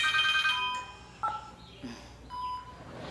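A mobile phone rings with bright electronic tones that pulse briefly and stop, fairly close, followed by quieter beeps and soft room sounds.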